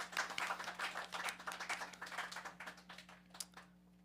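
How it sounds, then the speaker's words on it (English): Scattered audience clapping for the artists at an evening benefit concert, a few pairs of hands tapping out irregular bursts that thin toward the end, fairly quiet with no voices over it. "Let's give a round of applause for the artists tonight"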